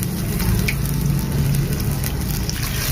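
Coconut milk (gata) with onion simmering in a pan, a steady bubbling sizzle with low gurgling and crackle, continuous and close, with no talking.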